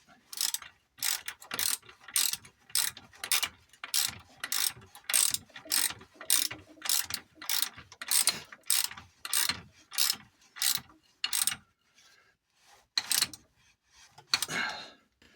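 A ratchet wrench tightens an engine mount bolt on a Peugeot 205 GTI, clicking in a steady, close rhythm of about a dozen quick strokes, then pausing before a final burst.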